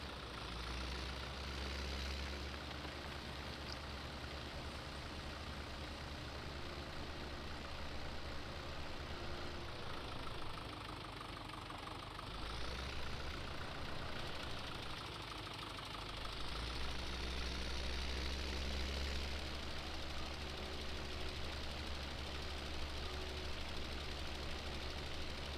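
A tractor engine runs in the video game Farming Simulator 17 with a fertilizer implement attached, a low steady knocking drone that stays faint and continuous, dipping briefly midway.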